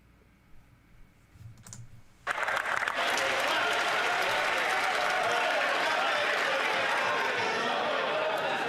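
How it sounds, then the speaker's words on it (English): Loud, sustained applause in a parliamentary chamber, breaking out suddenly after a brief murmur and continuing steadily as a dense wall of clapping, with faint voices underneath. "he's concerned that we're clapping for him."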